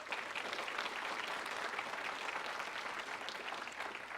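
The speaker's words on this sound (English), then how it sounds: "So give Char a round of applause." An audience at a municipal meeting applauds steadily, dense clapping that holds at an even level throughout, fairly close and with no speech over it.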